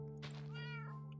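A single short cat meow from the video game Minecraft, a clear, close, rising-then-falling mew heard alone over a steady low background hum.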